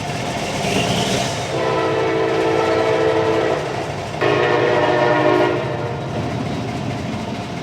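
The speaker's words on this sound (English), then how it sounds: "Trains are such a pain." A train rolls past a rural site where pipe is being loaded onto a trailer, its steady wheel rumble and clatter carrying a sustained horn blast that sounds in two long pulses, loud and close, with no voices.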